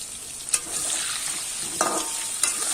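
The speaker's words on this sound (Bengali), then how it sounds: "তেল গরম হয়ে গেছে এবার আলু দিয়ে দিচ্ছি একটু হলুদ দিয়ে দেবো" Potatoes hitting hot oil with turmeric, a steady loud sizzle and crackle, with a few sharp clinks of a stirring utensil against the pan; no voices.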